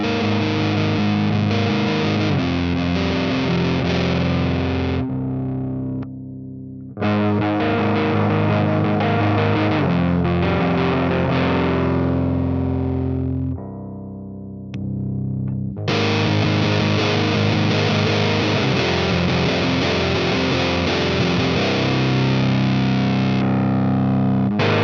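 A heavily distorted, fuzzy electric guitar through a JPTR Warlow fuzz pedal on its Rat filter setting plays sustained chords and riffs, loud and thick, with two brief pauses between phrases.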